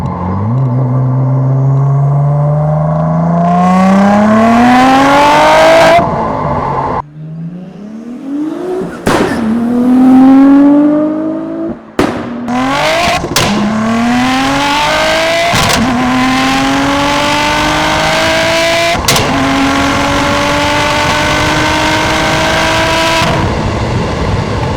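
A garage-built 750 hp Audi S4 B5 run on ethanol pulls hard on the Autobahn: loud, close engine revs climb repeatedly, each broken by a sharp gear shift, with boost noise carried through several rising pulls.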